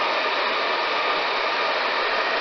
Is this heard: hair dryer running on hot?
yes